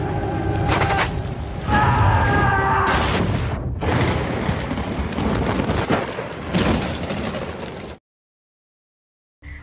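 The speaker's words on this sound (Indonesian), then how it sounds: "Hingga hujan badai pun tiba" Thunderstorm with heavy rain in the survival film Alpha: dense, loud broadband rain and rumbling for about eight seconds with a brief dip midway, then abrupt silence and a short burst at the end.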